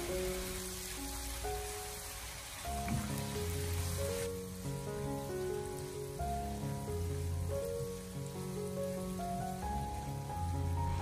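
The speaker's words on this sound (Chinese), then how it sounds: "再往里面添加少许的蚝油，然后再继续的小火翻炒，把蚝油的酱香味翻炒出来" Oyster sauce being stir-fried over low heat in a wok gives a soft continuous sizzle with scattered crackles, faint beneath music.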